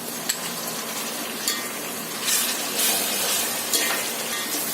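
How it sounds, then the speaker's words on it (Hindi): Continuous sizzling from a pan of frying ginger garlic paste, with a few light clinks and scrapes of stirring, close up and without voices. "2 से 3 मिनट फ्राई करने के बाद में अब डालेंगे इसमें अदरक और लहसुन का पेस्ट।"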